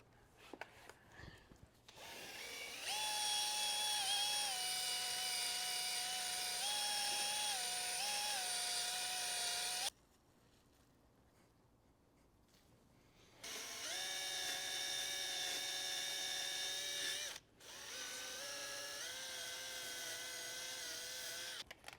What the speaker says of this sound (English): We're officially done with the gold sanding disc.